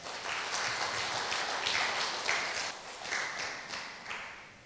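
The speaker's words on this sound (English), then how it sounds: "I think we should clap for that." An audience claps together for a person's 50% growth figure, a dense, steady patter of many hands that holds for several seconds before gradually thinning out.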